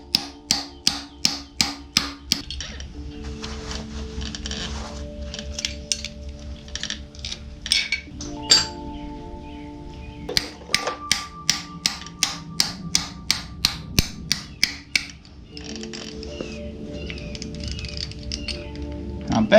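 Sharp metallic taps from a socket extension used as a hammer to press bread into a hole while fitting a freshly rebuilt small-block engine in a Camaro, coming in fast regular bursts with pauses between them, moderately close.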